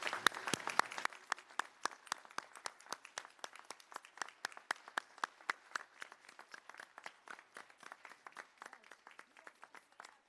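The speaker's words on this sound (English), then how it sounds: "let's give these folks a round of applause" A group at a bar swearing-in ceremony for new lawyers applauds, clapping loud and dense at first, then thinning into a rhythmic, slightly slowing patter of individual claps.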